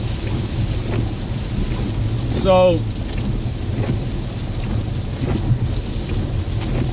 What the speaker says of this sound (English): it just started raining out of nowhere